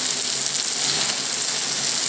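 Sugary sausage frying on a cast iron griddle, a loud, steady, dense hiss of sizzling fat that continues without a break, with no voices.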